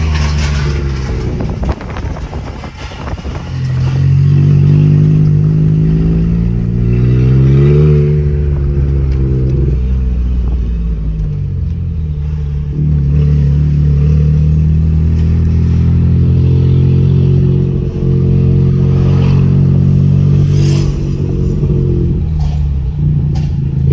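A Volkswagen Up TSI Stage 3 car engine revs and drones loudly, rising and falling in pitch as the vehicle accelerates and shifts, heard from inside, without full throttle.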